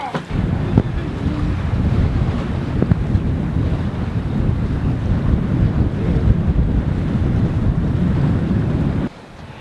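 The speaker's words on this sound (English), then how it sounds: "the wind's picking up reasonably fast" Strong wind roars steadily across the microphone while a sailboat under sail crosses between islands in 15 knots of breeze, a loud broadband rush with water wash beneath, dropping off abruptly near the end.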